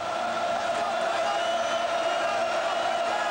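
Large stadium crowd at a 1979 USC at LSU college football game in Death Valley, a steady, dense roar of many voices held at an even level throughout, with faint cheering mixed in.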